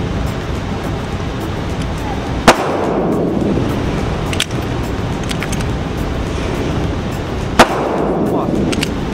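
Taurus G3 pistol fired at target practice outdoors, three sharp isolated shots spread several seconds apart over steady wind-like background noise, with people talking.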